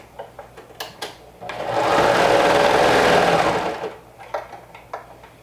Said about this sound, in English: now we're just going to run it through the serger with a 1/2 inch seam allowance